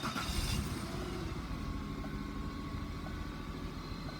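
A 2002 Mercury Cougar with high mileage fires up with a brief burst, then settles into a steady, fairly quiet idle hum that runs on alone.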